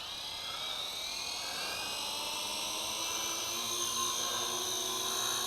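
A WLToys Q303-A large quadcopter drone with altitude hold hovers and climbs, its propellers giving a steady high-pitched whine with a constant buzzing drone, moderately near and uninterrupted, with no talking.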